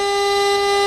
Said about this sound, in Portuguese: A buzina dele foi pouca